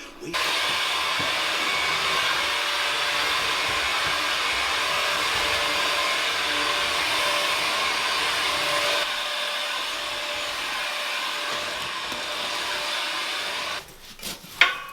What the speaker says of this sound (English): Time to vacuum.